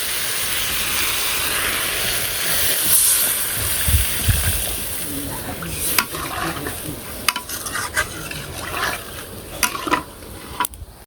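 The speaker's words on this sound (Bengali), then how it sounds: "তরকারিটা কষানো হয়ে গেছে, ঝোল দিয়ে দিই।" Broth poured into a sautéed curry in a pan during simple village cooking, with a steady sizzle and hiss, a burst of bubbling when the liquid goes in, then scattered clinks and stirring scrapes.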